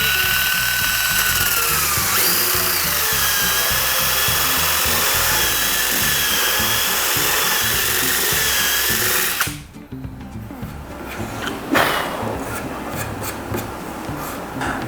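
A cordless power drill spins a sanding drum handle against a curved wooden workpiece, giving a loud, steady whirring grind for several seconds before it stops, followed by quieter scraping and handling noises.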